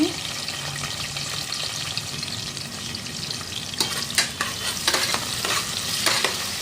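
Twenty cashews, three green chillies and two onions sizzling in a pan while being stirred, with a constant hiss of frying and scraping stirring strokes that grow busier in the second half.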